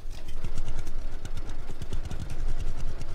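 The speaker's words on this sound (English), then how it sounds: "I find the sound of this tractor so strange." A tractor engine in the video game Farmer's Dynasty runs steadily with a rough, chugging, rapid, uneven putter and a low rumble throughout.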